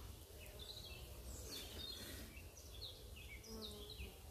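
Honey bees buzzing around a hive with polystyrene feeders, a faint, steady swarm hum with individual bees zipping past close by, no voices.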